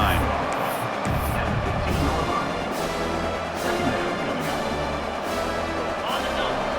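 Video game stadium crowd noise at an American football game swells and roars steadily in the background while a commentator talks over it.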